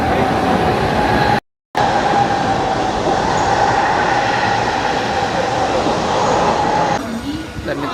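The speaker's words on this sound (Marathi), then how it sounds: "तर मित्रांनो, आपले लोकल आलेले आहे" A Mumbai local train pulls into Marine Lines station with a loud, steady rumble and rattle of carriages close by. The sound cuts out briefly near the start, and voices murmur faintly beneath the din.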